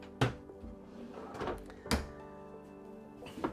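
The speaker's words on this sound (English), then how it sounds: "It is a storage drawer, nice and big for your pots and pans that could go in that space" A large storage drawer in the kitchen of a 2022 Tiffin Phaeton 37BH motorhome opened and shut, giving a few sharp thuds and knocks spaced through a quiet interior, one clear clunk near the start and another midway.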